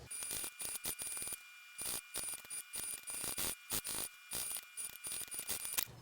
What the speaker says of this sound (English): I'm going to go over to the machine and top stitch all around this outer perimeter of the overlay